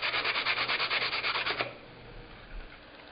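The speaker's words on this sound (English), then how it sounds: "I'll just lightly sand a few things and call it done" Light hand sanding on an old wooden box: steady back-and-forth rubbing strokes, close and fairly loud, for about a second and a half before stopping, leaving quiet room tone.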